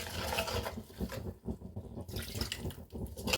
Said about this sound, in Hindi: साथ ही मैं डाल दूंगी थोड़ा सा यहाँ पे पानी, ताकि जो हमारा मसाला है वो अच्छे से मैश हो जाए।